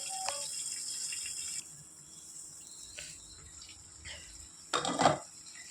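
Andhra-style beef and cucumber curry stirred in a pot, a few faint scrapes and clinks of a spoon against the metal spaced a second or so apart, the last one louder, over a quiet background hiss.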